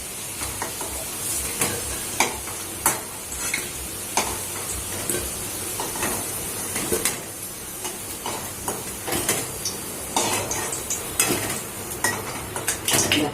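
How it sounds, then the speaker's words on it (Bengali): Browned fried potatoes are lifted out of hot, splattering oil. A busy, crackling sizzle runs throughout, with repeated metallic scrapes and clinks of a utensil against the pan at a steady rhythm, close and loud. "এবার মা আলুগুলোকে তুলে নিচ্ছে।"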